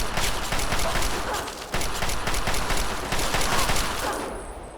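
Rapid, dense gunfire from Fallout 3 rattles on without letup, loud and close, in bursts of automatic shots with barely a break across the whole stretch.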